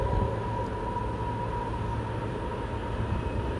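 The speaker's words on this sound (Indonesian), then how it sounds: "Nah ini double lokomotif yang menurut saya seperti CC200" Double locomotive of a track-laying train running inside a high-speed rail tunnel, a loud, steady rumbling drone with a sustained mechanical hum and no break throughout.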